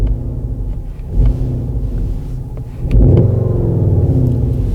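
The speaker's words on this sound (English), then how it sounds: "And now it's just a normal, regular sound of the engine." Skoda Octavia RS 2021 engine running in normal drive mode, a steady low rumble heard from inside the moving car, swelling slightly as it pulls harder near the end.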